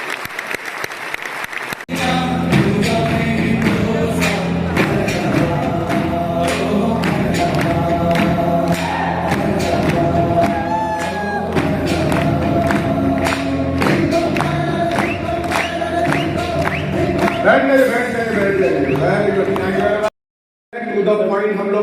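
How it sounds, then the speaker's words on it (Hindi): Loud, sustained applause from an auditorium audience at a product launch program in Dadar, dense clapping for about eighteen seconds that cuts off abruptly near the end. "तो एक बार जबरदस्त तालियां सब अचीवर्स के लिए।"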